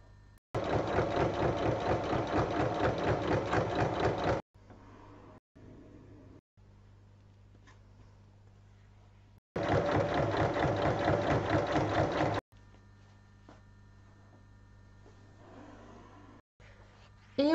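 A sewing machine stitches strips of fabric together to form the flap of a small upcycled bag, running in two loud, steady bursts of rapid stitching with quieter handling and pauses between them.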